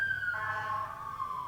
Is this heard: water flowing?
no